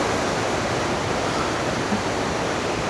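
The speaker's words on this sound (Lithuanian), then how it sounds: "Ten vanduo prabėga." Mountain stream in the Albanian mountains, water rushing loudly and continuously in a broad, steady roar close by, with no voices over it.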